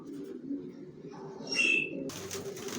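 Racer pigeons kept in stock give soft, low cooing close by, with a brief wing flutter and a higher call midway, over steady background noise.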